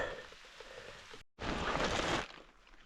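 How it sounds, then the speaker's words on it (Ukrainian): Steady rain in a Carpathian forest patters down in a dense wash of hiss, briefly cutting out and then returning louder before easing off. "Тікаємо, починається дощ."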